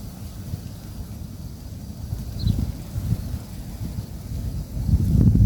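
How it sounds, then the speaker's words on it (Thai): Wind blowing outdoors by the water at a freshwater fishing spot, a steady low rumbling gust noise buffeting the microphone that swells louder toward the end, with no talking. "ลม ลมพัดนะครับทุกคน"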